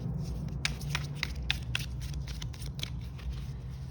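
Tarot cards being shuffled by hand, a run of crisp, rapid riffling flicks close to the microphone with no talking.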